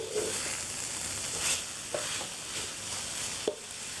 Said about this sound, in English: It's been 10 minutes I stir it, so now I'm going to turn off the heat and try the brown coconut.